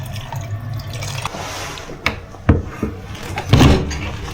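Water poured into a pot of mutton pulao, a few splashing, trickling bursts with clattering thumps, loudest near the end, close by and without talk.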